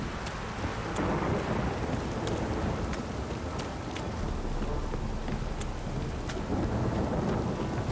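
Steady rain pours with wind in the video game The Witcher 3: Wild Hunt, while occasional crackles and rolling rumbles of thunder rise and fall across the recording.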